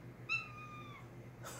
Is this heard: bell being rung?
no